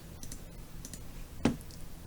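Computer mouse clicks during work in 3D character rigging software, a few faint quick clicks with one sharper, louder click near the middle, against quiet room tone.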